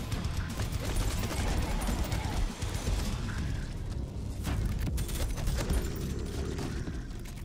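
Punchy gunfire in the indie first-person shooter Prodeus: dense, rapid shots and blasts pile up with clanking mechanical sounds and crashes in a nonstop loud barrage.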